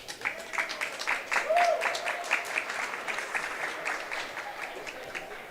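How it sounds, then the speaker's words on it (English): Fans at a Mason girls high school basketball game give a modest round of applause, a steady patter of clapping at moderate distance that swells briefly and then tapers, with faint crowd murmur underneath. "senior manager Koa Wilson gets a nice little round of applause there from the Mason fans"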